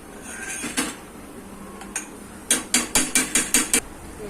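A pan of sweet potato halwa mixture set on a gas stove, with a metallic clank and then a quick run of sharp, evenly spaced clicks, close and loud.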